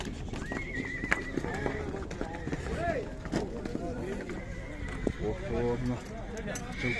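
A horse whinnies at an outdoor horse market on the outskirts of Bishkek, with a long neigh standing out above steady crowd babble, people talking nearby and occasional hoof clops.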